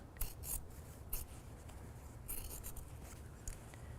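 Scissors snip and trim away bulky fabric at the corners of a sewn collar, a few quick close blade cuts scattered over a low steady background hum.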